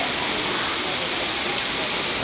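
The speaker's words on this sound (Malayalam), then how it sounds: "നല്ലൊരു മഴ വരുന്നുണ്ട്" Heavy rain pours steadily and loudly over a windy outdoor scene in Thrissur, Kerala, a dense continuous hiss with no break.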